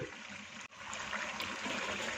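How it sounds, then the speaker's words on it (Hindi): Water trickling gradually into a frying pan of spiced paste, a continuous wet hiss and dribble after a momentary cut. "एक कप पानी थोड़ा थोड़ा करके शामिल करते जाएंगे और इसे भूनते जाएंगे।"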